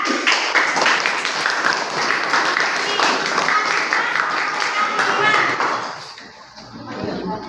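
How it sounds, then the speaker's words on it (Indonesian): A classroom of students applauds a presenting group, a full, busy round of clapping with children's voices mixed in, tapering off near the end as the room quiets. "Terima kasih, kita berikan tepuk tangan"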